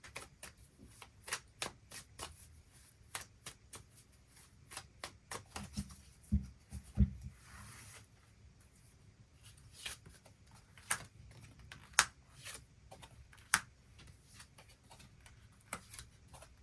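Tarot cards shuffled by hand before a reading, a long run of crisp, close card flicks and snaps in an uneven rhythm, with occasional louder taps and no talk.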